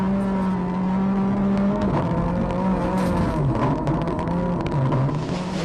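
A Skoda Octavia WRC rally car, driven by Kenneth Eriksson on a narrow snowy Swedish rally stage in 2002, roars loudly and close, its engine note rising, dropping and rising again through gear changes.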